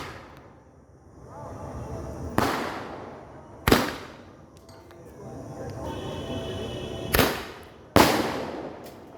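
Diwali firecrackers burst in four loud sharp bangs spaced a few seconds apart, some nearer and some farther, with crackling and faint voices in between.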